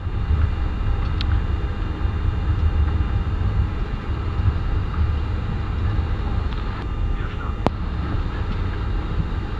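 A German Air Force Luftwaffe Airbus A310 takes off, heard from beside the wing as a steady, powerful broadband engine roar with rushing wind noise that stays loud from start to finish.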